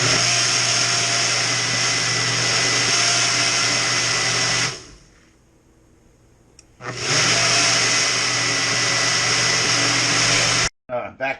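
A blender grinds up hot peppers for homemade hot sauce, a loud steady motor whine that cuts out for about two seconds, then roars back before stopping near the end.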